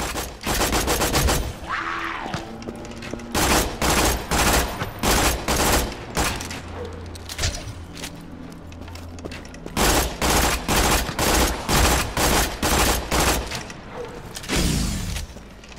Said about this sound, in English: Suddenly, you're attacked by a horde of skellymans.